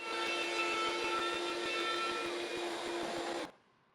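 A router cutting to widen a track along a straight edge in an adjustable template jig, a loud steady whining cut held for about three and a half seconds before it stops abruptly.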